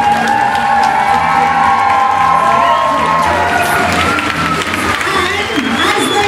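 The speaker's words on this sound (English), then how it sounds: "Give them all a huge round of applause." A stage crowd at the Paintopia 2014 parade, honouring Student Painter of the Year contestants, claps and cheers steadily throughout, with whoops and children's shouts mixed into the loud, continuous applause.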